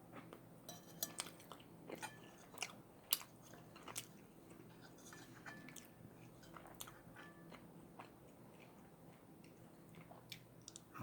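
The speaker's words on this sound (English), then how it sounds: "Delicious ASMR eating sounds." Close, quiet biting and chewing on an extra-large bean and meat burrito, with soft wet mouth noises and small crunchy clicks repeating irregularly and no talking.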